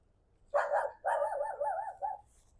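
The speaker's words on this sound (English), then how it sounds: "Every time she sees me, she barks." A small dog near a vegetable garden barks in a quick run of three or four yaps, moderately close but somewhat faint, with no talking over it.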